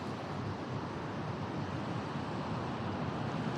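Large waves surge and crash around a small outrigger boat at sea, a continuous loud roar of surf and wind that fills the whole moment without a break.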